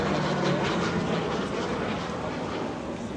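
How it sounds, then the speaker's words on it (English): A ScaleWings SW51 Mustang replica aircraft flies by at an airshow, a loud whizzing engine drone that peaks early and slowly fades as it passes, with no talk. "there's a certain whizzing sound to it, which is quite similar to the P-51"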